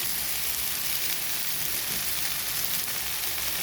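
Potato and eggplant pieces frying in a pan give a steady, quiet, even sizzle throughout, with no voices.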